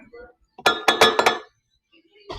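Homemade scar wax being stirred quickly in a container, giving a short burst of four or five close, bright clinking scrapes against the vessel, with faint quiet handling noise before and after.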